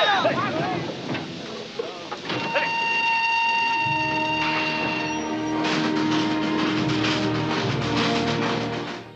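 Rumbling train noise with a steady metallic drone and screeching tones, close and loud, blended with wind and some background voices.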